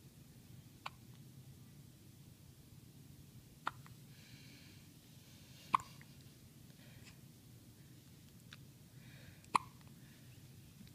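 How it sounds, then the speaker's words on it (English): A baby hiccups softly several times, short isolated hics spaced a few seconds apart over a quiet room background, faint and close. "I think as long as these hiccups are going on."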